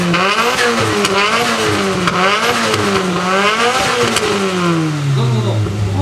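A modified car with an aftermarket exhaust muffler at a large car meeting revs repeatedly, rising and falling in loud, close blips before a long descending fade, with a crowd and voices faintly behind.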